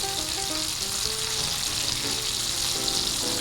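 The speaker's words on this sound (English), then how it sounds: "This is just searing the outside and then let it rest." Steak searing in a hot pan for a teriyaki surf and turf, a steady, close, continuous sizzle and frying crackle with a faint tonal hum running underneath, no talking.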